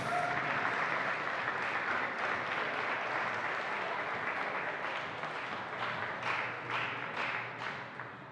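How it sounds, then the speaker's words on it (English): A crowd at a league game applauds the officials as they are introduced, sustained fairly quiet clapping that thins toward the end, with some distinct claps standing out. "a big round of applause for June Amon and Bill Engelbrecht."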